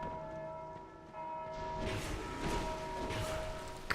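A bell rings in the video game Dark Souls 2, sustained metallic tones sounding steadily with a louder burst of combat noise partway through, no speech.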